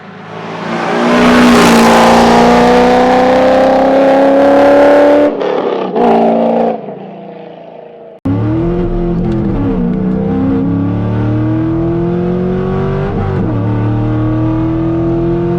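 A C5 Corvette fitted with Speed Engineering headers revs hard, its loud exhaust rising and holding a strained roar, then cutting off abruptly before a second sustained run of deep, droning exhaust under load with shifting pitch.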